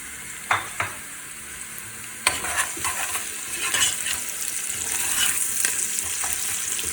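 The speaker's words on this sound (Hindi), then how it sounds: "तो प्याज को लाइट ब्राउन करते हैं।" Onions with salt fry in a pan toward light brown, a continuous sizzle with sharp clinks and scrapes of stirring that grows denser and louder over time.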